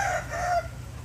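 Chickens of mixed breeds on an organic farm in Sri Lanka, a rooster crowing in a drawn-out call over a steady low rumble, fairly close.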